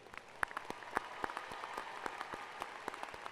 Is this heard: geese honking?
no